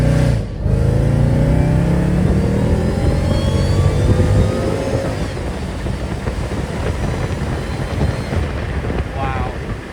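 Mercedes E55 AMG accelerating hard from inside the cabin, engine tone climbing steadily through the revs with heavy wind and road roar, a brief dip around a shift.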